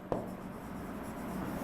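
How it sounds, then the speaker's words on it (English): Handwriting a chemical reaction during an electrochemistry lesson on electrolysis: a faint, steady scratching of the writing tool after a brief tap at the start, alone with no talk. "So I'll write the cathodic reaction."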